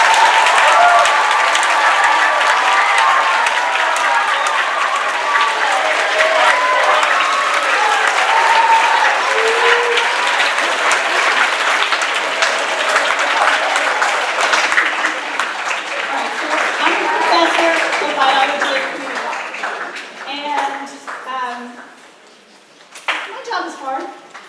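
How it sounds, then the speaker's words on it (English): A large audience at a state science academy's opening session applauds at length for teachers and sponsors, with dense, steady clapping that thins and fades toward the end, with some voices mixed in. "if the teachers and sponsors would please stand up for a round of applause"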